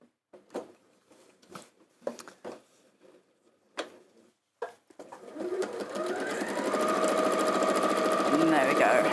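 A domestic sewing machine stitches down a side of a fabric flower, starting after a few seconds of scattered handling sounds and then running steadily and loudly to the end, with a voice briefly heard before the motor starts.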